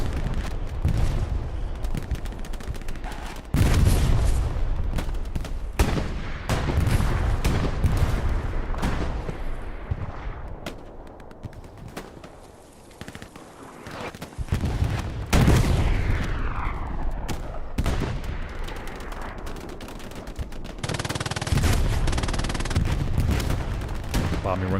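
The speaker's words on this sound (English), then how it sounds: "Bombing run called in." Heavy bombardment on the El Alamein map in Hell Let Loose, a 49-versus-49 WWII game: repeated loud booming explosions and artillery impacts roll continuously, with scattered gunfire crackling between the blasts and a whistling sweep partway through.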